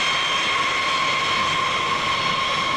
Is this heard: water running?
no